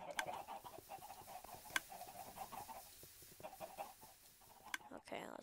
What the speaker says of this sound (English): I better kill all those chickens.